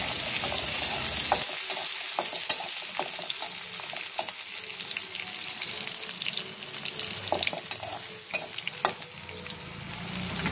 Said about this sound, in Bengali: আবার কিছুটা তেল দিয়ে রসুনগুলোকে ভেজে নেব।